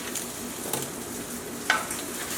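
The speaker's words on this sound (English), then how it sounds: "So what I just usually do is get a spatula, turn them around, and then just put them down again." Sweet potato wedges being turned with a spatula on a baking tray, a steady soft sizzle with a couple of light metallic scrapes and taps.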